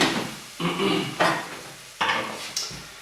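Onion goes into a hot pan for keema jalfrezi, giving four quick bursts of sizzling that fade between them, mixed with a few clanks of the pan, close and moderately loud.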